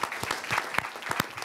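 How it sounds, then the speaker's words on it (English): A symposium audience on end-of-life care at NYU bursts into applause for the nurses: dense, steady clapping from many hands, with a few sharper claps standing out. "I think a round of applause for the nurses"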